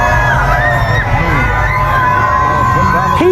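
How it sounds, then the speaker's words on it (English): A dense street crowd cheers and whoops for Donald Trump, a loud continuous roar of shouting voices with rising yells and whistles throughout, packed close and unbroken. "People out in the streets cheering for Donald Trump."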